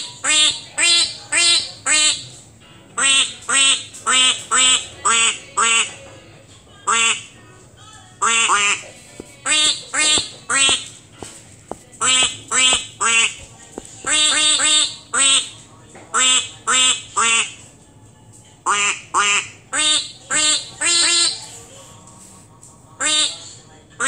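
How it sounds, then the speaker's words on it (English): Repeated duck quacks from a touchscreen piano toy sound in short bursts of two to four, loud and close, with brief pauses between groups. "Oh, it's a duck."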